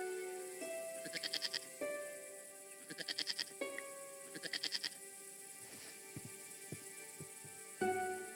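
A goat bleating in the video game Broken Sword 5, three rapid wavering bleats in a row, fairly quiet against soft game background sound and scattered clicks, followed by a short louder burst near the end.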